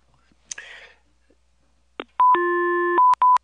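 A phone is switched on: a sharp click, a soft rustle, then a series of loud electronic tones and beeps, with a long steady tone followed by two short bursts.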